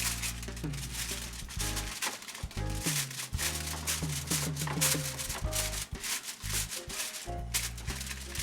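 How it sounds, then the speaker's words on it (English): Aluminum foil being pressed and crinkled tightly over a dish of Salisbury steak, close rustling and scrunching with low musical tones underneath and no talk. "Now we're going to cover with some aluminum foil,"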